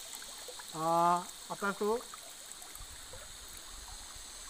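River stream at a bathing spot, a constant soft rushing flow running beneath a brief spoken phrase from a nearby man, steady and moderately faint.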